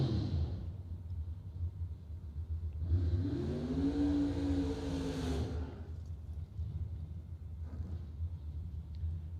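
A Chevy Vega drag car at a bracket racing event revs its engine, a far-off rumble that swells into a loud roaring rev, fades, then returns with a fainter burst.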